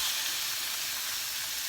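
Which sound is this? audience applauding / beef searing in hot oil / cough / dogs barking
beef searing in hot oil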